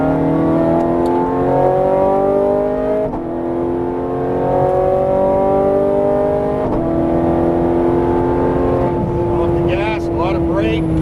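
Ferrari 430 Scuderia on a racetrack, its engine revving and climbing steadily through the gears at close range, with rising tones shifting upward, while an instructor talks over it.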